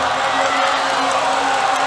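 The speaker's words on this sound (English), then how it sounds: "Once again, that is the Swedish crowd on the other platform." A Swedish crowd cheers from a neighboring platform at a world classic powerlifting championship, a steady, loud wash of voices and whoops filling the hall without a break.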